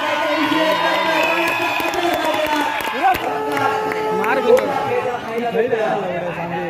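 Spectators and coaches cheer and shout at a kabaddi semi-final, a lively crowd roar with scattered claps and whoops rising and falling beneath continuous live commentary.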